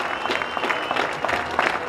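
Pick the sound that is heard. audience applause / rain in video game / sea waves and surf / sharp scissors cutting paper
audience applause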